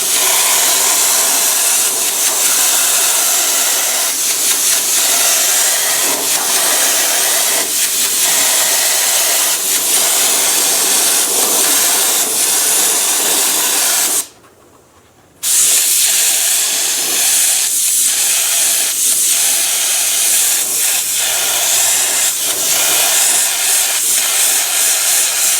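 Contact adhesive sprayed onto a wiper motor cover, a loud continuous aerosol hiss that runs steadily, breaks off for about a second and then resumes, up close with no talk.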